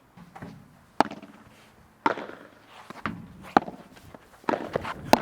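Padel racket volleys played from no man's land on a padel court: sharp, punchy hits land about a second apart, with softer shuffling and scuffing between them.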